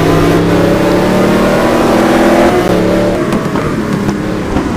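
Koenigsegg race car engine in a GT1 racing video game at the Nurburgring, loud and sustained with a steady high whine, revving across the whole stretch with no talk.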